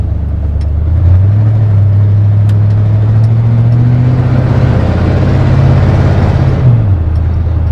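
A car engine revs up and holds a steady, rising drone as it pulls through the gears, with a dip near the end as the throttle eases; loud and close, no voices.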